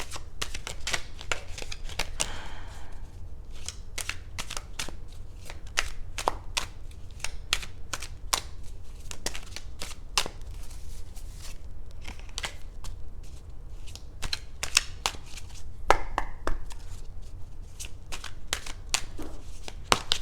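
Tarot cards being shuffled by hand for a card pull, a long run of soft riffling snaps and flicks in irregular bursts, close and fairly quiet, with no talk over it.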